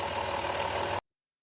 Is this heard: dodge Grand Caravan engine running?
yes